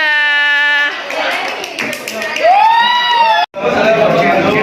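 A Grade 12 mathematics class at a Surakarta high school gives applause to group 2. Voices and a lively crowd come first, then a burst of classroom clapping and cheering rises near the end.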